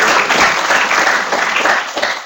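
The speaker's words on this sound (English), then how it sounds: "deserves a round of applause." A short burst of applause from an audience at an engineering geology lecture, dense clapping that swells and then begins to thin near the end.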